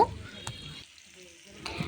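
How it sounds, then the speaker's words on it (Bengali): Fish coated in spice masala frying in a pan for a fish curry, a soft sizzle with a couple of brief scraping stirs as the pieces are turned, fading quieter in the middle before picking up again. "মাছটাকে এবার কিছুক্ষণ উল্টে পাল্টে আমি ভেজে নিব"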